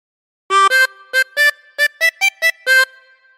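A chromatic harmonica plays a short Pop Goes the Weasel phrase alone, about ten clear, separate reedy notes in a bouncing rhythm, close and bright against silence.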